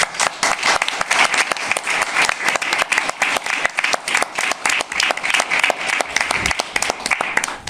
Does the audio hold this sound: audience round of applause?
yes